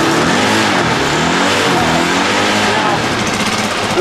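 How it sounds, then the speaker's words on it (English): A KTM single-cylinder thumper motorcycle engine revs up toward 7000 rpm, loud and close, with rising and falling engine pitch throughout. "Rev it up to like 7 grand."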